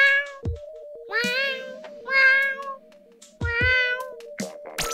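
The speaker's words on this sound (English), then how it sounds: "You can hear the damn cat from across the house." A cat meows loudly and repeatedly, about four drawn-out, wavering cries spread over a few seconds, set against a steady background hum.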